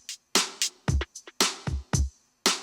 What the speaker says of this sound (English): So I'll play all the drums together.